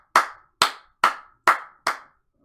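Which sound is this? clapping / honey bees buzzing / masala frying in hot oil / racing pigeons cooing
clapping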